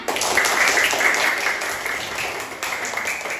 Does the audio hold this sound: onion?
no